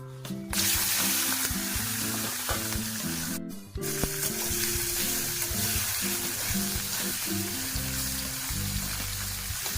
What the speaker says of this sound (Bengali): কড়াই গরম হয়ে গেছে, এবার দিয়ে দেবো এই চিংড়ি মাছগুলো।